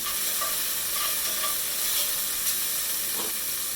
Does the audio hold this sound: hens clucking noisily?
no